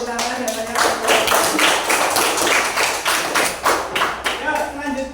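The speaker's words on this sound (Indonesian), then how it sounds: "Kita beri tepuk tangan ya banyak." Applause from a classroom audience during a teacher-training assessment session, a steady patter of clapping hands that fills the clip, with voices faintly present underneath.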